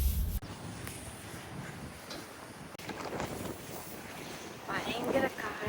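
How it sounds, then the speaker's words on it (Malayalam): Strong gusty wind buffeting the microphone outdoors, steady rumbling roar with a sharp burst at the start and stronger gusts near the end. "ഭയങ്കര കാറ്റ്"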